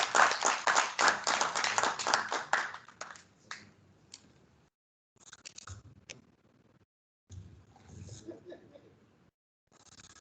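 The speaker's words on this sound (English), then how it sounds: "Please, a round of applause for Stemane." Applause for Stemane at the Eswatini Annual Exporter Awards 2021 ceremony: a burst of clapping from the audience that thins out after a few seconds into scattered claps and quiet room noise.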